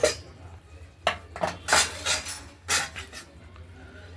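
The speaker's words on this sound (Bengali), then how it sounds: "এবার আমরা ঢাকা দিয়ে দিলাম।" A lid set onto a cooking pot of paneer curry with potatoes, heard as several sharp metallic clanks and clinks spaced unevenly, close and clear.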